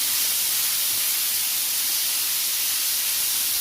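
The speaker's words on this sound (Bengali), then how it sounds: "উচ্ছেগুলো একটু লাল লাল করে ভাজাটা করবো।" Sliced bitter gourd frying in oil in a pan for masoor dal: a steady, loud hiss and sizzle runs continuously with no break and no talking.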